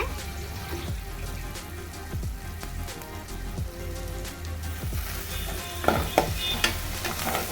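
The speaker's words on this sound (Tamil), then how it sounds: "கருவேப்பிலை சேர்த்துக்கிட்டு நல்லா வதக்கி விட்டுக்கோங்க" Tomato and curry leaves sauté in a pan for a pomfret fish curry, giving a constant rain-like sizzle. Stirring scrapes run through it, and a few sharper utensil knocks come near the end.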